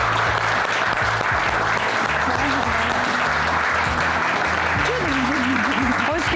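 Studio audience applause welcomes a guest onto a Turkish daytime talk show set, a loud, steady wash of clapping throughout, with a voice and some music-like tones rising over it toward the end.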